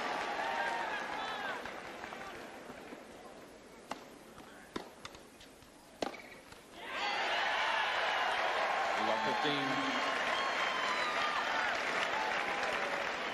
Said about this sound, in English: Just applauding Stefan as he came near